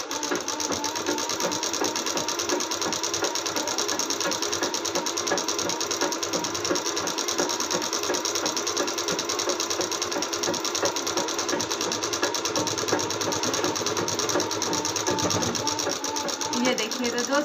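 An electric sewing machine stitches a salwar in a steady, continuous mechanical whir with a fast clattering needle rhythm. It runs close and loud for the whole stretch, and at times there is a voice underneath.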